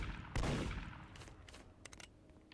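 Gunfire in the video game Dead Rails: one loud close shot opens, followed by a scatter of fainter, distant shots in an uneven run.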